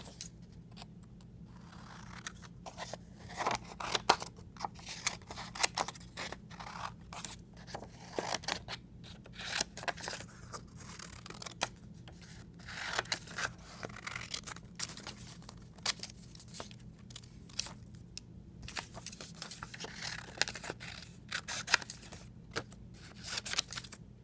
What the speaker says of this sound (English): I'm going to take my scissors and I'm going to cut out my shapes